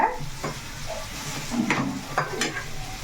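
Bitter gourd pieces sizzle steadily in a hot frying pan while being stirred, with several sharp scraping strokes of the spatula against the pan over a constant frying hiss.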